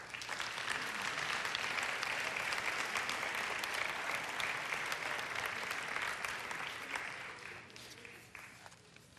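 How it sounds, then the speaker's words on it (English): Sustained applause from an audience at a community street festival pageant as Junior Miss contestants walk out, dense and steady for several seconds before thinning slightly at the end. "let's give them a big round of applause as they come out"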